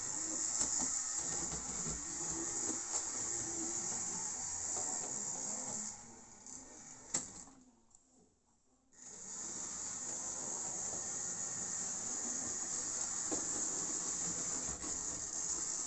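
A model train runs over dirty points, producing a steady hissing rumble of wheels on track. The sound dips into near silence for a couple of seconds midway, as if stuttering, then resumes at the same steady level.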